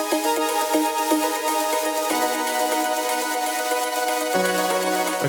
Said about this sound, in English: and beautiful chords like this.